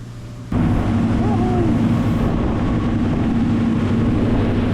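A yacht's motorboat engine holds steady at 3600 rpm, a loud continuous drone with rushing water and wind that starts abruptly after a brief quieter moment and stays constant throughout.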